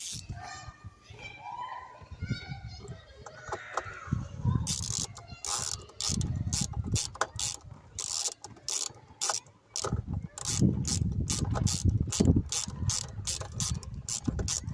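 A wrench ratchets tight on the battery terminal clamp of a Peugeot 5008 during a battery change: rapid metallic clicking in quick bursts and long runs, close and distinct, with a brief voice and handling noises early on.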